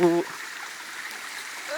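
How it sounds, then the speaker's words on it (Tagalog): A river stream rushes in a soft, steady wash at middle distance, a brief voice sounding at the very start before the water carries on alone. "Oh, may ilog na."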